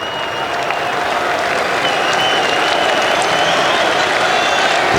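A large cricket crowd at an England v India Test match applauds in a continuous, dense wash of clapping, loud and sustained, with a faint murmur of voices underneath.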